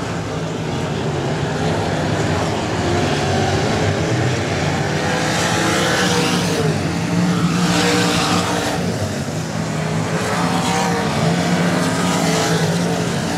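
Southern United Sprints race cars roar around the Texana Raceway Park track, a loud continuous engine drone that swells as cars pass close, with a faint announcer voice beneath.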